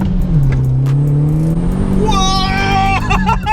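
A VW 6N2 Polo with a swapped 1.8 turbo engine of about 220 bhp pulls away in first gear: a low engine drone climbs, then a rising whine and revving build steadily, loud and close from inside the car.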